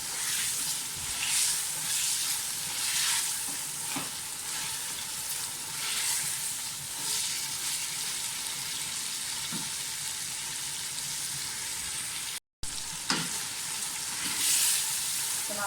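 Mutton sizzles and fries in a pot with tomatoes and onions, a dense continuous hiss and crackle with brief scraping stirs that runs throughout, with one very short dropout near the end.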